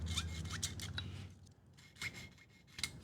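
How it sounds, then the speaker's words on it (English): A thin cleaning rod scrapes and pokes through the small holes of a carburetor from a Briggs and Stratton 24HP V-Twin, making close, repeated raspy scratching strokes in short bursts. "use that to poke through all these little holes, every one."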